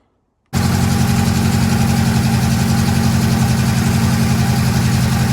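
A UAZ 2206 van engine, unused for many years, catches after a brief silence and settles into a loud, steady, rough idle with a constant low throb, close by and with no talk.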